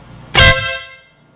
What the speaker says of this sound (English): we've got an air horn.